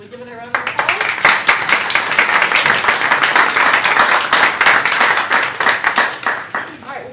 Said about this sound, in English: Should we give it a round of applause?